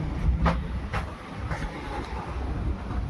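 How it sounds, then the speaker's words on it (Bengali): A passenger train pulls out of Mandapam station toward the Pamban bridge, a low rolling rumble with faint rhythmic clanks at intervals, close by and steady. "এই আমাদের ট্রেন ছেড়ে দিল"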